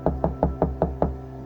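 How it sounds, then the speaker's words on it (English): Knocks on a cabin's front door at night, six evenly spaced, solid thuds in a steady rhythm, close and clear with nothing else over them. "3 knocks, then silence."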